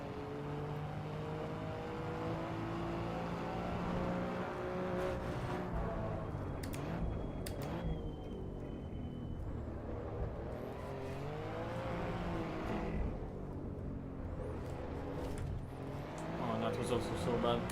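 A race car engine in the Assetto Corsa Evo driving game revs up and down continuously through gear changes, holding a steady drone under a player's talking.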